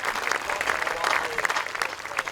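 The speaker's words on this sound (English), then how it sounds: "let's give Cindy a round of applause" An audience at a jazz orchestra arts concert breaks into dense, lively applause for a performer. The clapping is close and full, with crowd voices mixed in.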